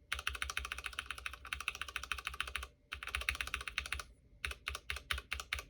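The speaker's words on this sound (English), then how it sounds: "And here is the Cherry MX Brown no lube." Bursts of typing on a keyboard fitted with unlubricated Cherry MX Brown switches, steady clattering keystrokes in runs broken by short pauses, ending in a few separate taps, close and clear with no voices.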